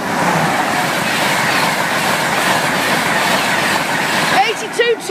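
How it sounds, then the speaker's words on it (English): A train rumbles steadily across the Claypole level crossing in Lincolnshire, loud and close, with rhythmic wheel clatter throughout and a brief squeal of wheels near the end. "Right on the track that the train's coming on."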